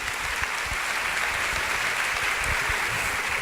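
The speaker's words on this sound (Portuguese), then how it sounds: "Palmas para o nosso amigo Ciro." An audience at a panel session applauds with dense, steady clapping that fills the whole moment evenly without a break, and no one speaks over it.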